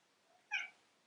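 A domestic cat gives a single short meow, close and fairly clear against a quiet room.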